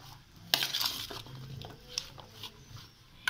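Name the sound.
mixing yam slices with chili powder, coriander powder and salt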